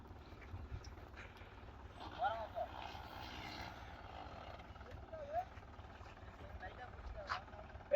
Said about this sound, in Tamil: ஊக்குப்பட்டில் போட்டு வண்டியை ஸ்டார்ட் பண்ணி நான் ஊற்றினா வண்டி வெளில வந்துடும்.